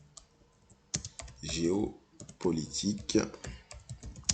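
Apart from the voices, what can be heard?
typing a search query on a computer keyboard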